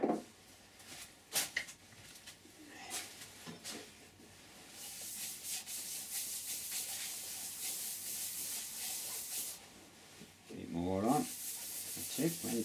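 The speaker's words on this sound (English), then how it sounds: "Get some sanding paste on it next." Sanding paste is rubbed onto turned wood spinning on a lathe, making a continuous close abrasive hiss and rub that swells and fades, with a brief voice near the end.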